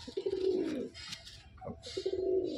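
An Andhra pigeon coos at a breeding loft, two low rolling coos close by with a short pause between them.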